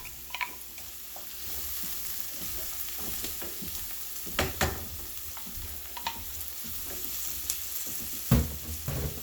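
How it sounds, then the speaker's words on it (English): Leeks sautéing and being stirred in a pan for mushroom risotto, a steady close sizzle with occasional scraping knocks of the spoon, no talking. "And now I'll add my leeks."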